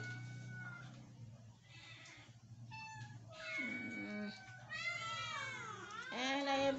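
Several kittens with upset stomachs meow repeatedly in high, rising and falling cries, close by, growing louder and more overlapping toward the end, with a low hum beneath.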